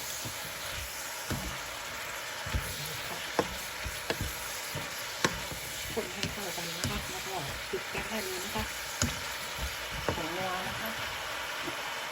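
Chinese kale being stir-fried in oyster sauce, with a steady close sizzle and regular scraping strikes of a spatula against the pan, while someone talks quietly in the background.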